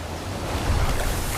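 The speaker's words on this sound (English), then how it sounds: "Rapids." River rapids rush in a steady, full roar of churning water, loud and close, with low rumbling turbulence throughout the short stretch.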